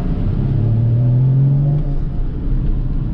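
Engine of a Porsche Cayman 981 out on a spirited test drive, a steady close drone with a rising tone as it pulls, continuous throughout.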